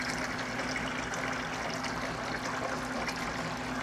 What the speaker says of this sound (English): Get a nice good flow of water.